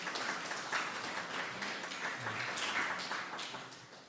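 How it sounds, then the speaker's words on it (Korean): Members of a Korean church congregation at a Sunday worship service in Darmstadt clap together in a continuous, even patter of applause to send off a departing visitor, with no voices over it. "잘 가시라고 박수 한번 드리겠습니다."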